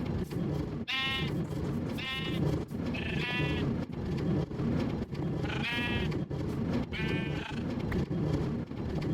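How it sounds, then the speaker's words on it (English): Sheep bleat repeatedly in Minecraft, several short wavering calls spaced a second or two apart over a busy, noisy background, fairly close and loud. "Now we have all of our sheep in there."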